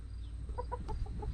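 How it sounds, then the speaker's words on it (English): Pet chickens clucking nearby in a backyard, a quick run of short soft clucks over a low rumbling background. "These are our prize 2 chickens."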